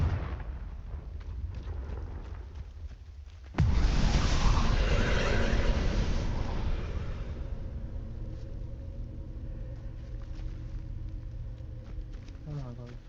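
A Confringo fire spell explodes in Hogwarts Legacy: a sudden loud, broadband blast hits partway through, then a sustained roaring, crackling rush slowly fades beneath steady game ambience.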